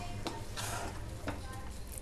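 Thick wheat and semolina dough being stirred and cooked in a pan, with soft sizzling and two brief spoon scrapes against the metal, close and steady.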